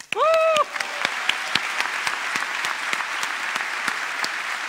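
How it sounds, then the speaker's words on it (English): A conference audience at lightning talks applauds the organizers. Scattered hand claps ring out in a large hall, moderately loud, following a brief whistle-like tone at the start. "my last five seconds was a bit of applause for EuroPython organizers"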